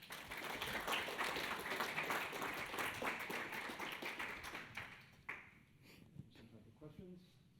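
An audience applauds at the close of a physics lecture celebrating 50 years of QCD, dense clapping for about five seconds that thins into a few scattered claps and room noise.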